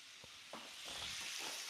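Cubed food frying in a cast iron pan gives a steady, close sizzle with a few soft stirring knocks over about two seconds, with no talking.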